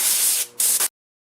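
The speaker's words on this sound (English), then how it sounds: "So right now I'm going to blow it out, get all the dust out of these cracks" A compressed-air blast clears dust from the cracks of a black locust burl wood bowl: a loud, close hiss in two bursts with a brief dip between, then silence.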